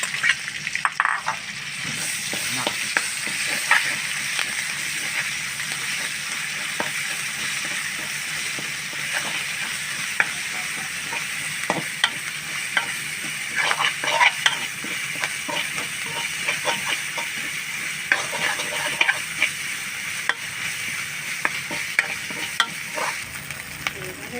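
Garlic and red curry paste stir-fry in a hot pan for a pork and long bean dish, giving a steady close sizzle broken by scraping and stirring clatter, with no talk.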